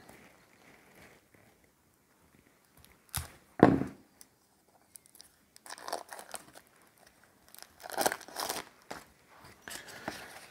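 Plastic wrap being torn and crumpled off Shadows of Brimstone board game card decks, in a few close bursts of crinkling with quiet pauses between them.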